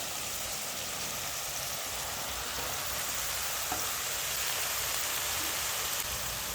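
Chopped eggplant and potatoes frying with tomatoes in a home kitchen pan give off a steady, even sizzle with a soft rain-like hiss, constant and close throughout, with no talking.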